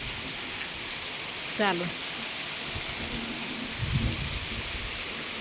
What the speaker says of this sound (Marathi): त्याच्यामुळे ही पाऊस असाच राहणार आहे सारखं